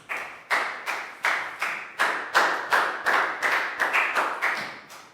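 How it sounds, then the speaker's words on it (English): Claps in a classroom during an English lesson: a steady run of about fifteen crisp, close claps in an even rhythm, each with a short ringing tail, and no voices. "Big round of applause for Chew"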